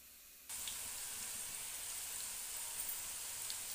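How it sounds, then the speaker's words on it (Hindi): Potato rolls frying in hot ghee give a steady, close sizzle that starts abruptly and hisses evenly throughout, with faint pops now and then. "अब हम इसे फ्राई करेंगे"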